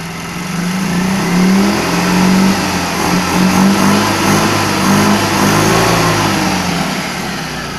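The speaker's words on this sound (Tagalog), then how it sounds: "we are going to rev. Notice the HHO gas" A homemade watercar engine running on HHO gas revs up and down close by, a steady mid-pitched engine drone rising and falling in repeated surges.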